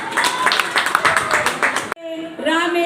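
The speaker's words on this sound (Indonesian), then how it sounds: "Boleh tepuk tangan." Audience applause at a cultural talk event on keroncong music, a short burst of dense clapping that cuts off abruptly, followed by a voice speaking.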